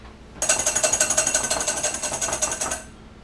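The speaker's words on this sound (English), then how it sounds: "you can start whisking your egg whites until they reach stiff peaks" An electric mixer whisks egg whites to stiff peaks for Australian lamingtons, a close, loud, pulsing mechanical whir that runs for a little over two seconds before cutting off.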